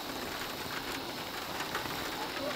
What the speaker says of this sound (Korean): 건기인 메마른 하늘에서 비가 오기 시작한다.